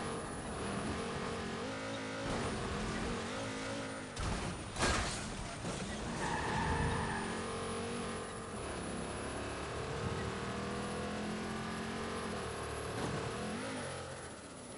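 A car engine revs hard and roars at speed throughout, a steady, loud driving drone with surging pitch and traffic-like background noise, in the Watch Dogs 2 video game.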